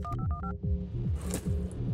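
Telephone keypad dialing in the video game Buckshot Roulette: a quick run of four beeping tones, then a series of short repeated tones over a low, pulsing background.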